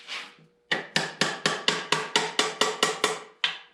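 Rapid, close hammer blows ring out in a quick, steady series against the rear axle flange of a Farmall Cub to free a stuck gasket, following a brief scraping sound and a short pause.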